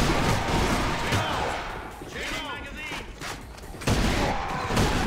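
Pistol gunfire in the first-person shooter Alliance of Valiant Arms, loud shots and clattering game noise in a dense, steady mix with voices talking over it.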